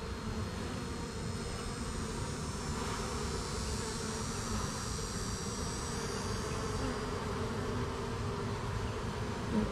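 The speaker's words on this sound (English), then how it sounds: "just letting the bees crawl over me" Honey bees buzz in a dense, continuous drone during a hive cut-out, the swarm close and loud with no break or voices.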